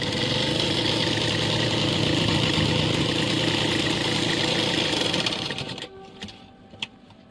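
A sewing machine stitches a shirt collar with a loud, steady, whirring motor hum for several seconds before it winds down and stops, followed by a faint click in the quiet.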